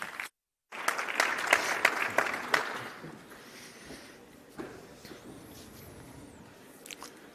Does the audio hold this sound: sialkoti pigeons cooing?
no